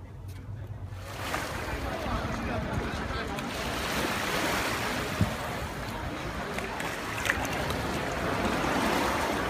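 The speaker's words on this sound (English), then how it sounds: "the overwhelming sound of speedboats revving up and the party" Speedboats revving along an island shore at Maya Bay on Koh Phi Phi Ley, a dense, continuous engine roar mixed with surf and wind buffeting the microphone, building slightly over time.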